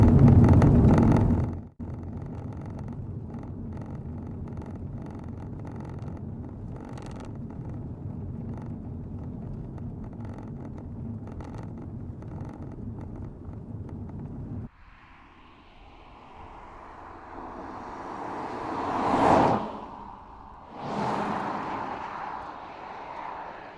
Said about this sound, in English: There's a little bit of road noise, but it's not at a level that you would consider distracting.